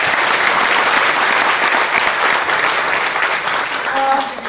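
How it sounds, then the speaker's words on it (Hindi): A hall audience at a Vestige product information event claps steadily in loud, sustained applause for the whole stretch, with a faint tone near the end. "एक बार ताली हो जाने दे उनके लिए।"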